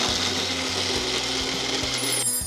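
A kitchen mixer grinder whirs steadily and loudly, blending soaked cashews, magaj seeds and poppy seeds into a fine paste, a continuous motor drone with a faint rhythmic churn before it cuts off at the end.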